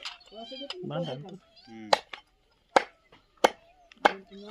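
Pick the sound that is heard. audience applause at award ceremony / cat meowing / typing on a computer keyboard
cat meowing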